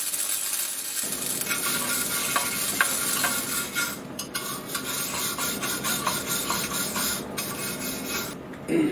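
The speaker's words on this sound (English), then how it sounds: "I'm welding the handle on." A handle is welded onto a steel slide pin in a home garage workshop. The sound is a continuous close crackling sizzle lasting several seconds, with brief breaks and restarts partway through. No one speaks.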